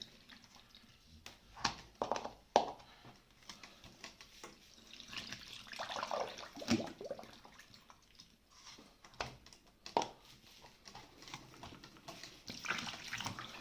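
Water runs and splashes while a car battery is rinsed clean of baking soda residue, an irregular close stream with intermittent louder gushes and drips, no one talking.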